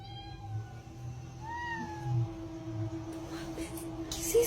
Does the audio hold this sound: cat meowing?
yes